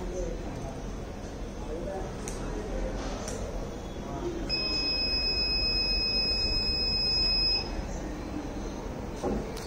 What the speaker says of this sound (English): it will give a buzzer alert